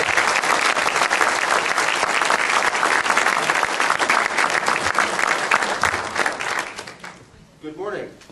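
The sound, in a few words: audience applause welcoming a speaker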